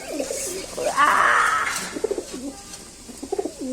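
Pigeons coo in soft, repeated throaty rolls close by, with a brief rustling burst in between, as a person talks over them.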